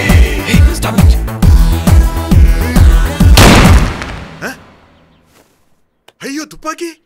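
A Tamil movie scene carries a loud, rapid series of sharp gunshot-like bangs over music, then fades to quiet before a brief burst of voices at the end.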